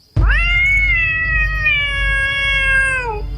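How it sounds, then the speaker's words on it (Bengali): A black cat meows from inside a bush in one long, loud, drawn-out call that holds steady for about three seconds before trailing off, close and clear with no talk. "শব্দ শুনে দেখি ঝোপের ভেতর থেকে সেই কালো বিড়ালটা মুখ বের করেছে"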